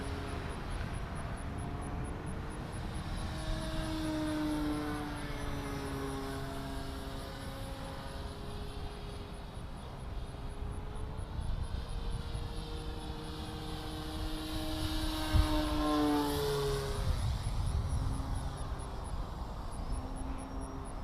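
Sukhoi 29MM RC model plane with a new rudder servo in flight. Its steady propeller and engine drone runs throughout, rising and falling in pitch as it passes, with no voices.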